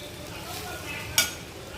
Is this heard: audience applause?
no